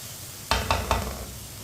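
Spices sizzling in a hot pan while cooking anda karela, three quick stirring strokes with steady soft frying underneath, close and fairly quiet.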